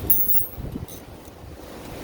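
Steady outdoor wind buffeting the microphone ahead of a storm, a low rumbling roar with gusty swells throughout, no talking.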